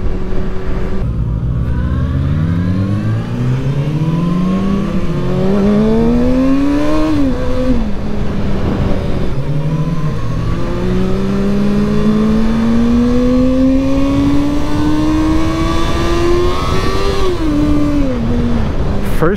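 A Kawasaki ZX-4RR motorcycle accelerating hard through first gear, its high-revving inline engine climbing in pitch in long sweeps, with a short shift and renewed climb, loud and close over wind noise.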